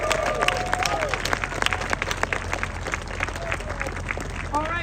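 An indoor audience at a middle school recreation center naming ceremony keeps up steady, dense applause with scattered whoops and cheers, filling the whole stretch evenly.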